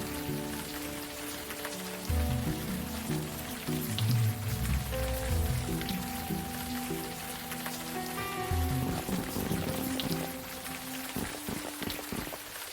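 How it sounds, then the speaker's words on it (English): Steady rain falls on surfaces in the video game Unavowed, a constant patter that runs throughout under a low, shifting musical background. "we will learn nothing standing here in the rain"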